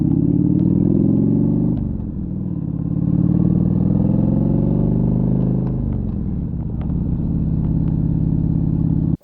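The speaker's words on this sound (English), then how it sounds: "The legendary potato sound is the reason why many new riders often prefer an old used EVO over new bikes." A Harley-Davidson EVO V-twin motorcycle engine runs loud and close with a lumpy, rumbling idle that rises and settles through a few throttle changes, alone without speech.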